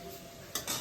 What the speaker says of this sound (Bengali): যে আলু ভাজা হচ্ছে